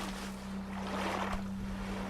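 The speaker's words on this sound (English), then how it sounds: "the paddling sounds are quite a bit lower" Paddling a small boat through open ocean water in the survival game Stranded Deep, a steady soft wash of water and wind with a low constant hum underneath and a slight swell near the middle.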